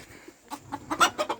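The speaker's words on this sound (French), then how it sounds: "Un coq portoricain." A Puerto Rican rooster clucking nearby in a farmyard pen, a quick run of short, uneven clucks growing louder toward the end.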